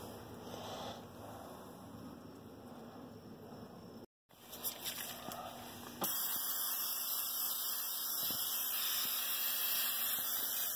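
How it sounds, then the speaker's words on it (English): Steady hissing aerosol spray onto a rusty old farm truck floor, close and fairly loud, in long continuous bursts with a brief pause between them. "I'm gonna spray a little bit of that down on there."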